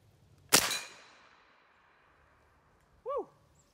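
A Dragon Claw .50 caliber big bore airgun, modified for more power, fires a single hollow point slug; one sharp loud crack with a short decaying tail, followed a couple of seconds later by a brief rising whistle-like tone.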